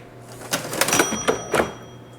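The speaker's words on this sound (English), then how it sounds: "You've got to love the old cash register here." An old mechanical cash register in a century-old general store clatters and clunks through several sharp keystrokes and lever thumps, close and loud, with no voices over it.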